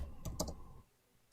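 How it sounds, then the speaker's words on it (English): Quick burst of clicks from a computer keyboard being typed on, close and clear, with a short pause near the end and one more keystroke after it; no voices. "Sorry, I'm typing the link."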